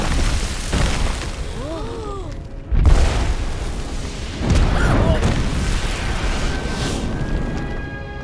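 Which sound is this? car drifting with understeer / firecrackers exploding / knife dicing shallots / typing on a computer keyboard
firecrackers exploding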